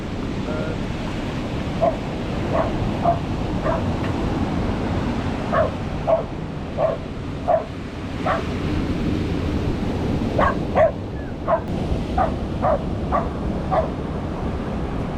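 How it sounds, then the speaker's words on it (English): A dog on Clifton Beach in Cape Town barks in repeated short yaps, often in quick pairs and clusters, heard against a steady roar of surf and wind buffeting the microphone. "That dog is enjoying himself."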